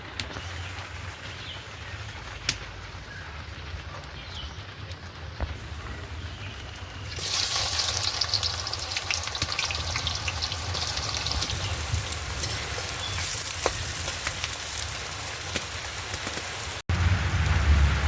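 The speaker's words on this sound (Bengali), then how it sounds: "আমি কড়াইতে তেল দিয়ে দেবো, আর তেল দিয়ে এই পেঁয়াজের বেরেস্তাটা ভেজে তুলে নেব।" Sliced onions for birista frying in hot oil in a kadai, a steady hissing crackle that grows louder and denser partway through, close and continuous with no talk.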